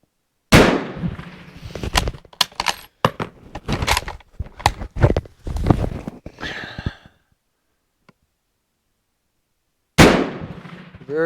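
Spanish Mauser model 1893 small ring rifle fires mild loads with long round nose bullets, sharp close reports cracking out in an irregular run, then a quiet pause before one more loud shot.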